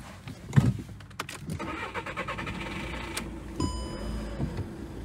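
A Seat Ibiza with 416,000 km on it being started: a key jingle and click, a whirring starter crank, then the engine catching and settling into a steady mid-pitched idle, heard close up.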